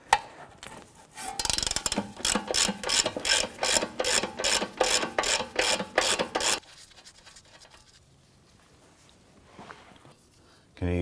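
A ratchet with a 17mm socket removes a nut from the front upper control arm of a 2004-2008 Acura TL, a close, rapid run of rhythmic clicking strokes for several seconds before it stops, followed by quieter handling noise.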